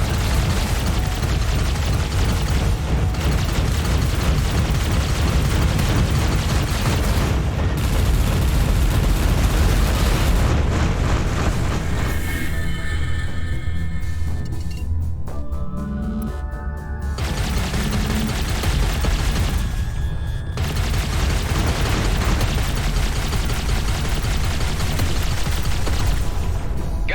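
Spaceship weapons fire and explosions in the space combat game Everspace 2 form a dense, continuous barrage of loud booms and blasts, with a brief lull midway before the heavy firing resumes.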